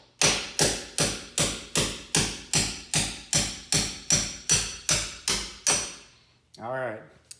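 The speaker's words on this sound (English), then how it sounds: "So let's go ahead and give it a couple whacks." Hammer blows strike a seized Jeep door hinge pin, about a dozen sharp metallic whacks in a steady rhythm, loud and close, followed by a short voiced sound at the end.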